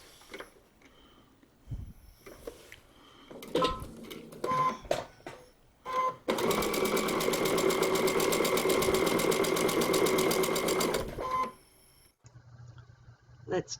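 Sewing machine stitching fabric onto a paper-pieced quilt block, a fast steady whirring run of about five seconds, preceded by scattered clicks and handling noises and short bits of talk.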